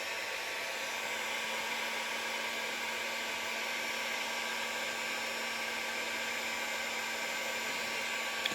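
A hair dryer powered by an electric canister for an electric vehicle, blowing warm air at 900 watts with a steady, continuous whirring hiss and a faint constant hum, nearby and without speech.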